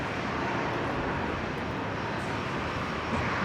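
Embraer E190 jet in Alliance Air Centenary livery at Brisbane airport, a steady broadband engine roar that fills the whole stretch, loud and constant without gaps.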